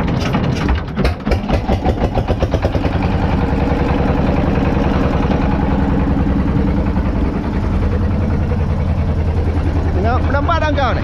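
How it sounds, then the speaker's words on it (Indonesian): A fishing boat's engine is cranked at sea with a few rough, uneven chugs, then settles into a loud, steady, low idle that runs throughout. "Di sini teman gua mau mengengkol mesin."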